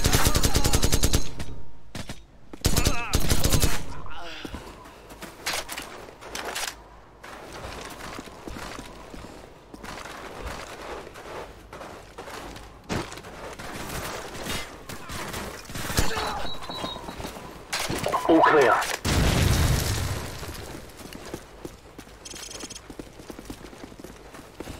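Gunfire in the video game Call of Duty 4: Modern Warfare, a street battle with RPGs on the rooftops: loud bursts of automatic fire at the start, then scattered shots and rattling volleys at varying distances, with no talking.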